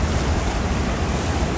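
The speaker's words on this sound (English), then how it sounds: "get to the waves breaking and the sun" Ocean surf rolling and breaking on a shore at first light on Christmas morning, a steady broad wash of waves with wind rumble across the microphone, no voices.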